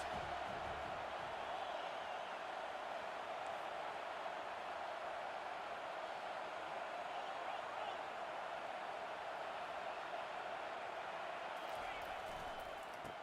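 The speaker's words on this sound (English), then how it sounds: "this crowd will blow out a vocal cord to help this defense" A dense stadium crowd roars steadily on a third down in an American football video game, a continuous wall of cheering and noise sustained throughout, with no break.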